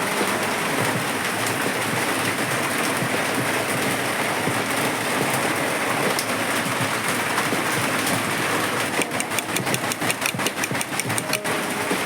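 Heavy, dense rainy-season rain in the province roars steadily throughout, loud and close, with a rapid rhythmic pattering emerging toward the end.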